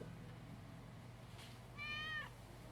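A cat in the video game Yakuza 6 gives a single clear, mid-length meow over a quiet steady background hum, with no one talking.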